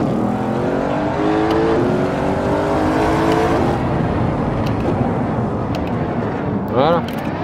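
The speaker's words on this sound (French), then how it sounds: "il y a une Ferrari juste derrière" Race cars in the Assetto Corsa driving game, an Audi RS6 with a Ferrari close behind, give a loud continuous engine drone that rises steadily, then settles into a rough roar, with a brief whine near the end.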